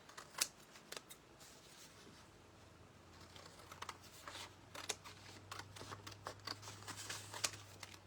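Scissors snip through paper while cutting out painted shapes, giving quiet, irregular crisp clicks and rustles close by with no talking.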